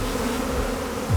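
Dense swarm of bees, thousands covering a person's face outdoors, buzzing loudly and continuously up close with no speech over it.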